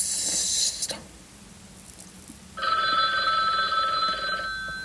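Small phone ringing in a video game: a bright electronic trill that starts midway and holds for about two seconds, following a brief hiss and faint background noise.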